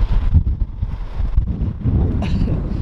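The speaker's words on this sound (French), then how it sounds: "il y a un vent glacial" Steady, blustery icy wind in Sweden buffeting the microphone, low rumbling gusts rising and falling with no voices.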